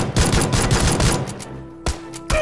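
Gunfire in PUBG (PlayerUnknown's Battlegrounds), a quick burst of rapid shots up front followed by a pause and two separate sharp single shots, loud and close.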